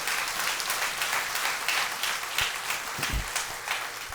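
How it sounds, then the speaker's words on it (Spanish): A church congregation applauds during a Spanish-language service, with sustained clapping from many hands filling the room at a moderate level. "Démosle un aplauso al Señor."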